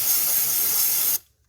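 Throttle body cleaner sprays from an aerosol can onto the throttle body of a 2009 Honda CR-V engine, a single close, loud continuous hiss lasting just over a second before cutting off sharply.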